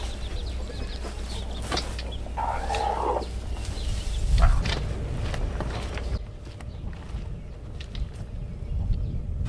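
Chickens cluck around a backyard chicken coop, a brief burst of fowl calls standing out against steady outdoor background noise, fairly close and moderately loud.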